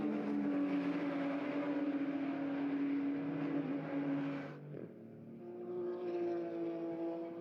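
A McLaren 570S GT4 race car rolls into the pit lane at a Super GT race at Highlands, its engine droning steadily at moderate distance before dipping briefly and resuming.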